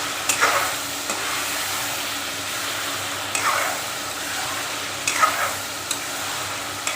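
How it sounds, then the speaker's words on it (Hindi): Potato and egg curry masala sautéing in oil in a pan, a steady sizzle broken by a few louder scraping stirs of a spoon; close and fairly loud, with no voice. "थोड़ी सी भुनाई हम और करेंगे।"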